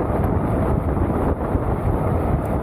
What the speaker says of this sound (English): The only sound you hear is the wind.